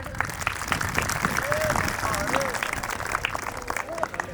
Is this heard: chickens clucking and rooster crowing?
no